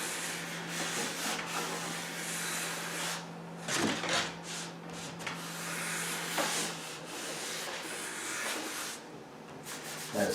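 Steel wool loaded with wax rubs across a copper beech wood tray in steady, close scrubbing strokes, a continuous abrasive hiss that swells and pauses irregularly, without speech.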